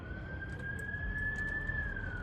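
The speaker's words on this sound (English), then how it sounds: "Sirens." A distant emergency vehicle siren wails outside, one faint rising and falling tone drifting over low traffic rumble, heard alone.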